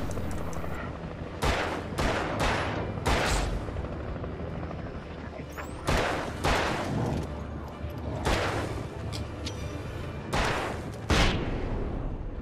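Gunfire aimed at an enemy in the video game Alan Wake: loud, sharp bursts of shots arrive in clusters across the stretch, with a steady low rumbling backdrop between volleys.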